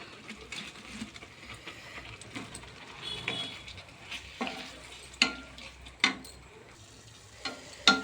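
Cauliflower stirred into a pan of simmering curry gravy, soft sizzling with irregular spoon scrapes and clinks that grow sharper toward the end, close by.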